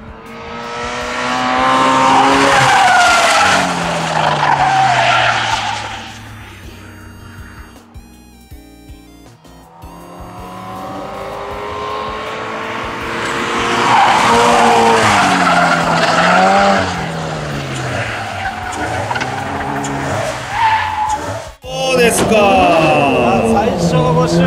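A Toyota 86 drifts around a circuit, its tires squealing loudly and continuously through long slides with the engine droning beneath, the skid easing briefly midway before resuming; a voice talks over part of the run.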